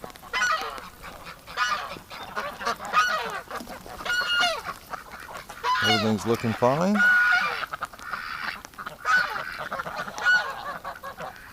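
Ducks quack and honk again and again in a winter pen, loud and close with bursts overlapping, while a person talks briefly among them.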